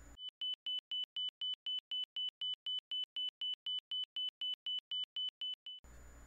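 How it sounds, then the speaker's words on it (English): A marker beacon tone in the DCS World flight simulator, a steady series of about twenty-two short, identical, high-pitched beeps at an even, rapid rhythm, clear and alone, lasting about six seconds. "There are also marker beacons that will illuminate a light on the front dash and make a sound as you pass over them."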